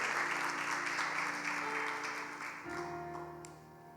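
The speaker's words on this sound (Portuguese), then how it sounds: "Dá uma salva de palmas ao Senhor," A church congregation claps during a sermon, a dense clapping wash that thins out after a few seconds while a sustained tonal sound, like music or a held note, rises underneath.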